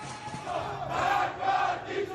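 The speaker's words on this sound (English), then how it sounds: "This crowd are chanting "Death to the dictator,"" A protest crowd in an Iranian city chants in unison, a distant, rough mass of voices rising and falling in rhythmic waves, heard alone without nearby talk.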